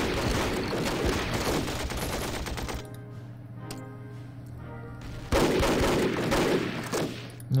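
Machine gun fire in the Battle Academy 2 war video game comes in dense rattling bursts, loud at the start, quieter through the middle, then swelling again near the end.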